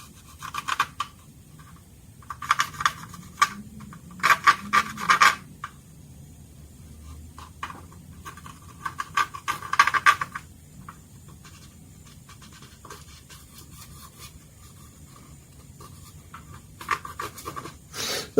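Scribing tool scratching panel lines into a model Messerschmitt Bf110C-4 aircraft, heard as short bursts of light dry scraping strokes in irregular clusters, close and quiet, with pauses between.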